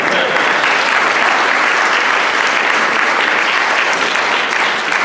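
Loud, sustained applause from a crowded audience at a political candidates debate, a continuous wash of many hands clapping without a break.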